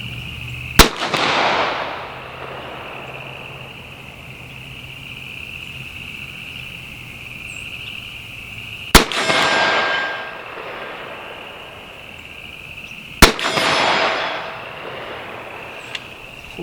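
Three loud, sharp gunshots from a Canik TP9SF Elite pistol fired off a rest outdoors, widely spaced, each with a ringing echo that fades before the next.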